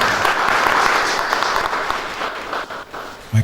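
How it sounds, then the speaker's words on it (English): An audience applauding head teachers at a public lecture, a dense burst of clapping that holds steady and then tapers off over a few seconds, fairly loud and close with no voices over it. "may I request members who are internal here to clap for them"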